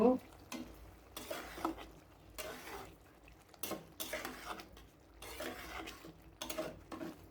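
Ash gourd and mung dal with ground spices being stirred in a pot, a run of scraping, clattering spoon strokes with soft sizzling in between, close and fairly quiet, with no talk.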